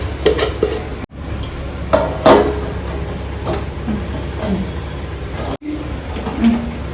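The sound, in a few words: scooping cooked rice out of a pot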